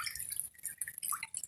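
Water drips and trickles quietly at a piggery as wastewater drains from the flooring, a run of faint, irregular close drips.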